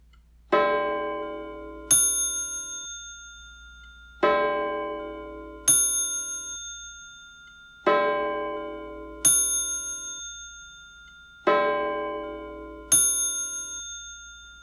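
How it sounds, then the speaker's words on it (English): Mantel clocks strike the hour in a series of ringing chimes, each a resonant bell tone with a long decaying ring followed by a brighter, higher ding, repeating at even intervals in a quiet room. "the accurate mantel clock across the room began to strike the hour"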